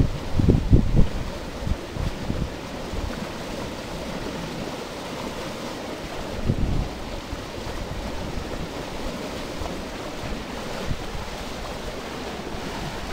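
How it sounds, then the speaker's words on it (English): Soft, steady wash of waves from a passing boat's wake lapping nearby, with a couple of louder splashes at the start and midway, otherwise a continuous gentle surf hiss. "aren't those waves lovely? Can you hear them?"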